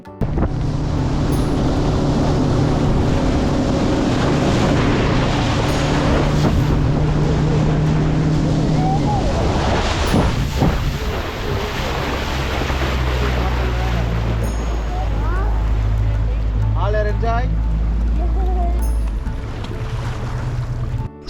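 A speedboat speeds across the Banasura Sagar dam reservoir in Wayanad: a loud, continuous engine drone with rushing wind and water throughout, the low engine tone dropping and deepening in its second half.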